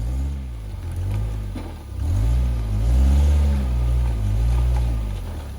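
Off-road vehicle on 35-inch tires crawling a hard trail, its engine growling low and rising and falling in slow revs as it works over obstacles, close and loud.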